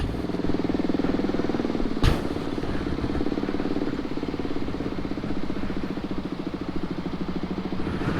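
Motorcycle engines idle in traffic at a bridge entrance, a steady mid-pitched chug with light clatter and one sharp click partway through, moderately close.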